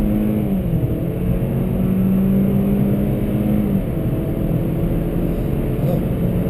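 A 2021 Kia Forte EX four-door sedan's engine revs steadily between shifts, its droning pitch dipping and climbing as gears change, with someone talking over the cabin noise.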